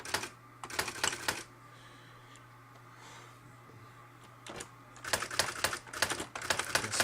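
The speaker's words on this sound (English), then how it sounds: "I love my new brother typewriter." A Brother electronic typewriter and word processor types in rapid bursts of crisp, close key strikes, pausing in the middle for a quieter stretch of machine hum before the fast clatter resumes.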